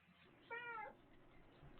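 A single drawn-out cat meow from Alexa's Box of Cats, played through a smart speaker, lasting under half a second and clearly audible over low room noise.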